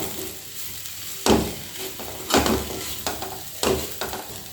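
Ground coconut, fennel and garlic masala stirred into Chinese potatoes frying in a pan, with three loud scraping stir strokes over a steady sizzle.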